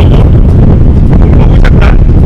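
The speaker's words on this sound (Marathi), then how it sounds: "तर भयानक वारा असतो इथे नेहमी एनी टाइम." A fierce wind blows across a hilltop windmill project site near Panchgani, producing a loud, unbroken low rumble of buffeting against the microphone, with faint speech under it.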